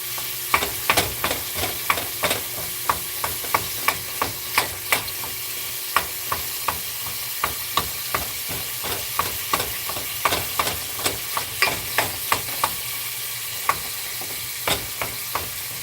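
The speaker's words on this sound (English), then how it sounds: "Right now I'm just browning the beef" Ground beef browns in a pan for mince and potatoes, a continuous sizzle punctuated by regular sharp scrapes of stirring, close and alone.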